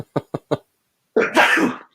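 Three short sharp breaths lead into one loud, explosive sneeze that trails off. It is heard close up and alone.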